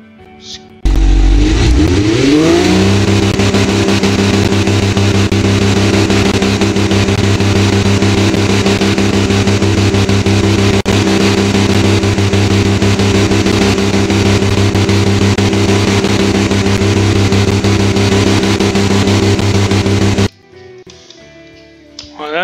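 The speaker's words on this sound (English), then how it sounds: "This is a truck engine." A truck engine built for the BeamNG video game, about 312 horsepower and revving toward 4,000 RPM, starts up, climbs sharply in pitch, then holds a loud, steady high-rev drone for nearly twenty seconds before cutting off abruptly.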